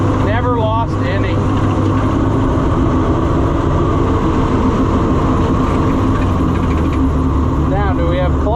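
An old 7300 combine engine runs steadily at idle, a loud, continuous mechanical drone with a deep rumble that holds unchanged for the whole stretch.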